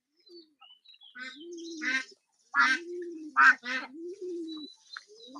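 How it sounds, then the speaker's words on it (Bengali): Ducks on a duck farm quack loudly and repeatedly in harsh, nasal bursts, several calls in quick succession with short gaps, close to the listener. "হাঁসগুলো প্রচন্ড ডাকাডাকি করছে যার কারণে আসলে কথা বলতে সমস্যা হচ্ছে"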